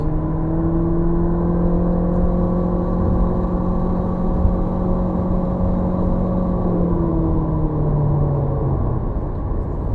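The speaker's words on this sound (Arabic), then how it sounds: "ولكن صوت المحرك عالي" A Geely GX3 Pro car engine in sport mode hums loudly and steadily, its pitch holding then rising and falling slightly as it revs, with no talking.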